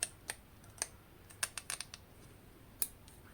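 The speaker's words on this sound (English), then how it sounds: "you're going in with your straight scissors and just cut off" Straight scissors snip at a photo negative in a few sharp, quiet clicks spaced irregularly over a faint room hiss, close by.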